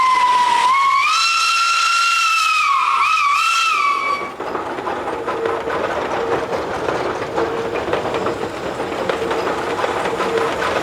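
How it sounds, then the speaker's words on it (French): A real steam train sounds a loud, sustained multi-tone whistle for several seconds, then gives way to a steady roaring hiss of escaping steam. "Je t'emmène dans un véritable train à vapeur."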